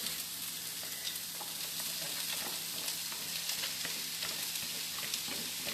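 Grated sweet potato, peeled, sizzles and fries steadily in a hot pan while it is stirred through, with a continuous crackle broken by small pops and scrapes; a brief word is spoken at the start.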